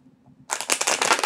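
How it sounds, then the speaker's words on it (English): A deck of tarot cards shuffled by hand in one quick, crisp riffle of rapid papery flicks lasting about a second, close and clear after a quiet moment. "Get another shuffle on this."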